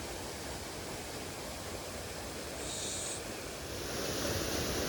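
The waterfall at Hilton Falls, beside old mill remnants, makes a steady broadband rush of falling water that holds evenly throughout, moderately distant and unbroken by voices.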